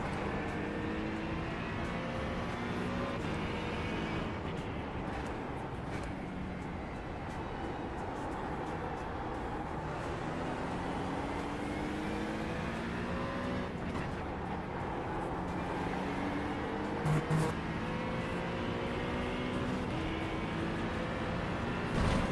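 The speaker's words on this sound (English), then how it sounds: "The car is probably loud as heck to you guys." A GT3 race car engine in a racing video game at Spa drones at a fairly low level, its pitch climbing and dropping repeatedly through gear changes.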